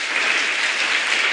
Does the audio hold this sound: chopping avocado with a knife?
no